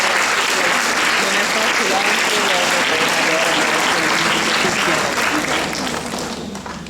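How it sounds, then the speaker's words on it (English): Sustained audience applause at an inter-school Shakespeare awards ceremony, dense steady clapping from a large hall crowd that tapers off slightly near the end. "Ladies and gentlemen, can we give him a round of applause?"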